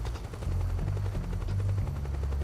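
Helicopter in the video game Metal Gear Solid 4, a steady low rotor drone with rhythmic thumping that fills the whole stretch, loud and continuous.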